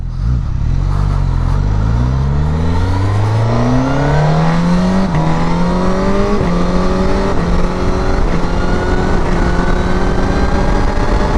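Suzuki GSX-S 1000 GX motorcycle launching from a stop, its engine roaring continuously and loud as it climbs through gears, pitch rising and dropping with each shift, close to the rider with steady wind noise.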